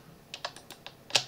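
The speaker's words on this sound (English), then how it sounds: "if you press the top left button or key on your keyboard, you can select all of your layers quite easily" Keys tapped on a computer keyboard, about six quick, crisp clicks at uneven spacing with the last one loudest, close and alone.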